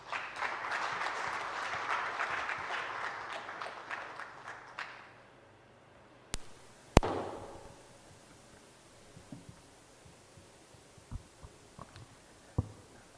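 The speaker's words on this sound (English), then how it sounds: "A round of applause for Dr." Audience applause at an engineering organisation's official launch event, dense clapping for about five seconds that fades out, followed by a few scattered isolated claps and knocks in a quiet hall.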